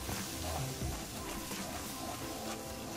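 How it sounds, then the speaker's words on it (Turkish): Flour roasting in melted butter in a pan for béchamel gives a continuous soft sizzle with gentle stirring scrapes, steady and close throughout. "Unumuzu kavuruyorum."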